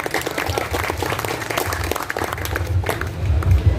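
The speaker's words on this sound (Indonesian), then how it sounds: "Tepuk tangan buat KKB." Steady applause from an audience at a Betawi community Ramadan gathering, dense and continuous clapping for nearly four seconds, with a low rumble underneath.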